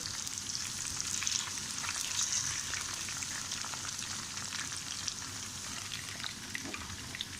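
Okra frying in hot oil gives a steady, close sizzle that stays constant throughout, with faint crackles scattered over it and no voices.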